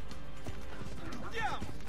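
A horse galloping in Assassin's Creed 2, a rapid clip-clop of hooves with a brief whinny near the end, running under someone talking excitedly.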